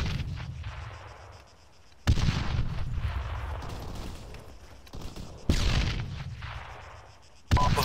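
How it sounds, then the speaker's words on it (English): Gunfire and artillery in a military video game firefight: sharp booming blasts arrive around every few seconds, each followed by a rumbling decay, with scattered rifle shots between them. "we're taking fire from the south"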